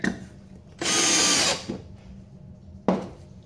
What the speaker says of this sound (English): You can use a name brand